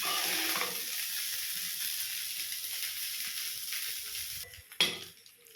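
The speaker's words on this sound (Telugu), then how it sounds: "3 to 4 మినిట్స్ బాగా కలుపుకోవాలి హై ఫ్లేమ్లోనే" Egg fried rice with salt and chilli is stirred over a high flame, with a steady close sizzle and scraping, softening toward the end before a sharp clank of utensil on pan.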